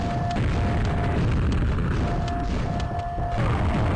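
An ogre's grenade explodes in Quake, a loud, sustained booming blast that fills the whole moment with dense low rumble and faint high tones over it.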